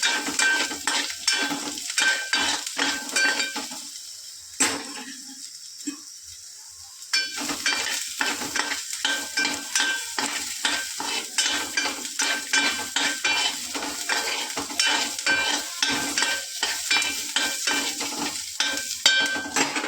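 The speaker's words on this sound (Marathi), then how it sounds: "कांदा चांगला ब्राऊन करून घेऊ." Onions browning in a pan for mutton, a close sizzling hiss broken by rapid rhythmic scraping of a spatula against the metal, with a brief quieter pause partway through.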